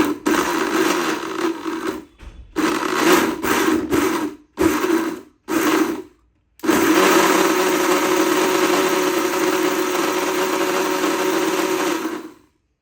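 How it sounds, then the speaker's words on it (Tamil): A mixer grinder whirs loudly, grinding sautéed fish curry masala in short pulses with gaps, then running in one long steady burst before stopping. "மிக்சி ஜாரில் போட்டு நல்லா நைஸாக அரைச்சி எடுத்துக்கலாம்"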